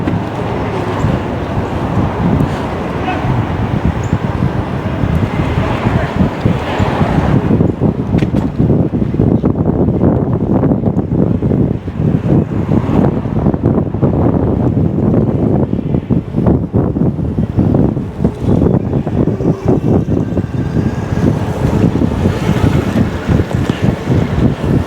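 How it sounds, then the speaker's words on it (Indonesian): Strong, cold wind buffets the microphone on a New York City street, a loud, continuous roar with gusty rumble and no speech. "Ini sekarang anginnya naik kenceng."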